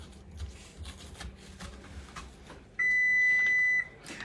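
An oven preheating to 400 degrees gives off one long, loud, steady electronic beep of about a second near the end, after quiet kitchen shuffling and handling noises.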